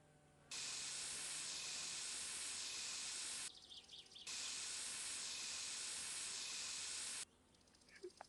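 Spray paint hisses onto engine parts in My Summer Car: two long, steady bursts of loud broadband hiss, each lasting about three seconds, separated by a short quiet gap with faint ambient sound.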